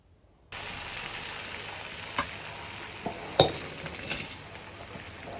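Hot tempering (baghar) poured into vegetable khichuri, a steady sizzle after a silent start, with a few clinks of a spoon or pot.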